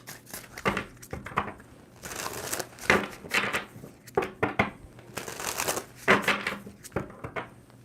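Tarot cards are shuffled in repeated crisp, riffling bursts, close and fairly loud, with short pauses between each shuffle.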